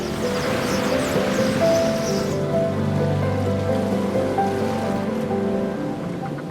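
Sea waves wash against a rocky Scottish shore in a steady broadband roar of surf, loud and continuous throughout, with no voices.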